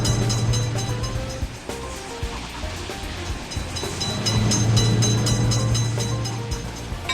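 A train in a level-crossing traffic game rumbles past the crossing with a steady, loud rolling roar and low hum that swells twice, with no talk.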